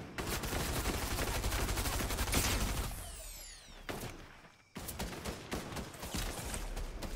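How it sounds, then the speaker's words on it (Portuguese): Gunfire from another squad in the Fortnite video game, rapid volleys of shots in dense bursts, loud and close, dropping into a short lull before sharp repeated shots return. "Tem outro squad atirando em nós."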